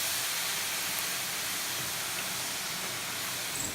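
Ice melting on a hot AGA cooker lid throws off a steady, loud, broadband steam hiss that carries on without a break from start to finish.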